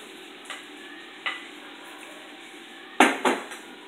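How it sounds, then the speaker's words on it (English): Veggie chunks being added to a pot over sizzling heat, with a few clinks and scrapes of a utensil against the pot, the sharpest pair near the end, over a faint steady fry. "right now, I'm gonna add my veggie chunks"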